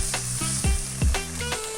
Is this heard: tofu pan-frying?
yes